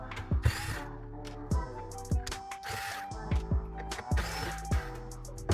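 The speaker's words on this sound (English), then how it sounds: "we're gonna have 3 more screws on the back, which is gonna get the rest of our casing off." A screwdriver unscrews the back casing screws of an Akai MPC1000 sampler, close ratcheting clicks and small metallic ticks in short bursts, with light room noise and some music.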